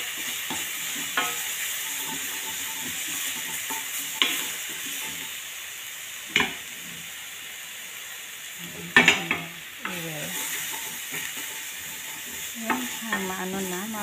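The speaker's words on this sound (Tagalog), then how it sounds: "ma-brown na ang bawang natin" Garlic sizzles and fries in a pan while being stirred, with steady crackling hiss throughout and several sharper scraping clinks of the utensil against the pan.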